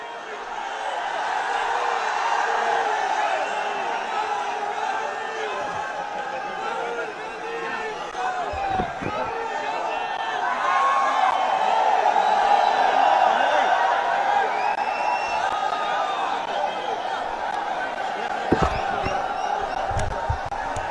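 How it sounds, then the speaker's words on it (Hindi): Large crowd at a Rahul Gandhi Bharat Jodo Yatra rally in Indore, a steady roar of cheering, shouting and applause that swells and fades across the clip, with a few sharp claps and thumps near the end. "जोरदार तालियों से राहुल जी का आप आए तो आगाज करो, जोरदार तालियों से"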